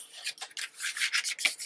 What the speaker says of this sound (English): Burnish that.